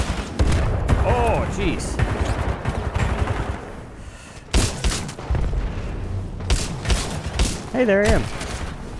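Bursts of rapid gunfire and booms from a Titanfall 2 multiplayer firefight keep going throughout, loud and dense, with a player talking over the shooting.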